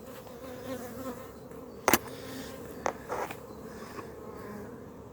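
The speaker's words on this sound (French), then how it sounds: "là-haut, c'est bien pleine d'abeilles" Honey bees hum in a hive in a low, continuous drone, with a few sharper clicks and knocks over the steady buzzing.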